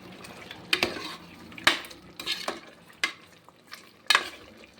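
A utensil scrapes and clinks against a pan as mutton chops are stirred after salting, with about six sharp, uneven strokes over a faint frying sizzle.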